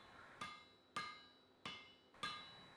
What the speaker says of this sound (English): So I'll start this off with a hammer and then move on to a set hammer